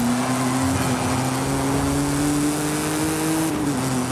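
A 1939 Maserati 8CTF race car engine in Forza Horizon 5 drones loud and steady at high revs, a continuous buzzing roar with a slight pitch climb and a brief dip near the end.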